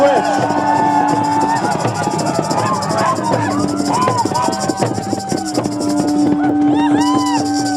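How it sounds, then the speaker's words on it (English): A rally crowd on Parliament Hill in Ottawa at an Idle No More day of action cheers loudly and steadily, with a dense babble of voices, whistles and shouts filling the whole stretch. "Let us give them a loud and proud cheer."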